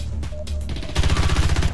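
Firing-line gunfire in Modern Warfare Infected mode, rapid regular automatic shots rattling in a steady rhythm that grows louder midway, layered over other game noise without speech.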